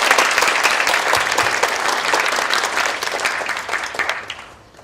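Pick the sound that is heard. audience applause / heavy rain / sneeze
audience applause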